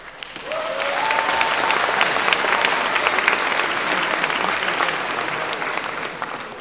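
A crowd at a convention talk bursts into loud, sustained applause that swells within a second and holds as a dense, steady roar of many hands before easing slightly at the end.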